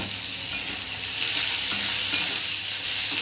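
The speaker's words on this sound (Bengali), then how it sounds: "পেঁয়াজগুলো এইভাবে ভাজতে থাকবো, খানিকক্ষণ ধরে ভেজে নেবো।" Chopped onions fry in oil with whole cardamom, cloves, peppercorns and cinnamon for ghugni cooked with mutton fat. A loud, dense, unbroken sizzle carries faint stirring scrapes, with no voices.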